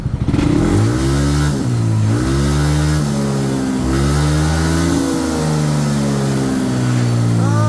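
Loud, close motorcycle engine at operating temperature, revved hard at full throttle while sitting on its center stand, its pitch rising and dipping through several surges over a sustained roar.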